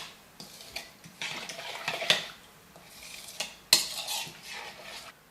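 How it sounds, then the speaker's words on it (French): Spices including cayenne and crushed pink peppercorns are stirred in a bowl for homemade beef jerky, with close scraping and clinking strokes and a couple of sharp taps against the rim, no voices. "On remue."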